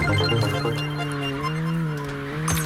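In a racing video game, a car drifts with a long, loud tire squeal whose pitch bends and wavers, set over steady engine noise, ending in a brief scrape.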